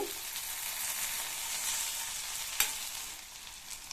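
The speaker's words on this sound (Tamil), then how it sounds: "இந்த கத்திரிக்காய் எண்ணெயிலேயே வதங்கி பாதி அளவுக்கு வெந்து வரட்டும். அப்பப்போ திறந்து பார்த்து கிண்டி விட்டுக்கணும்." Eggplant pieces fry in oil with a steady, soft broadband sizzle. A single utensil clink marks a stir partway through, and the hiss continues evenly afterward.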